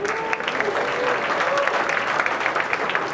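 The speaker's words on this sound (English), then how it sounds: "Can we please have a round of applause for our third presenter of the night, My Sock Keeper?" An audience at a startup pitch night applauds the third presenter, a steady wash of clapping from a crowd with faint voices mixed in.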